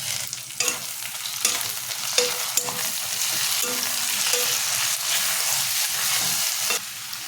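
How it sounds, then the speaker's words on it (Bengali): Onion, ginger, garlic and tomato fry in a pan while being stirred, giving a steady close sizzle broken by scraping stir knocks throughout, with no talking. "পেঁয়াজ আদা রসুন কষানো হয়ে আসছে"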